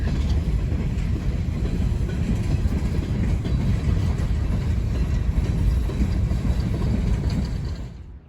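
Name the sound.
freight train passing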